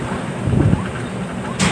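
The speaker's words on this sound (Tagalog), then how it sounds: "Medyo mahangin-hangin tayo ngayon mga idol." Wind blows outdoors in a rural area, a steady close rushing buffet against the microphone with a brief gust at the end.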